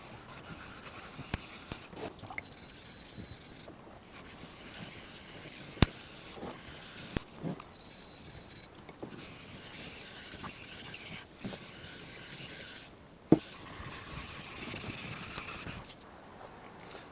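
Coarse Norton 220 grit sharpening stone rubbed back and forth over a magnetic sine plate under repair, a soft steady scraping hiss broken by a few sharp clicks, close and quiet with no talk.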